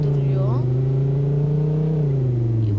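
A car engine in a Turkish comedy video game drones steadily and revs through a drift, loud and continuous with a rising and falling pitch, alongside a faint high chirp of tyres.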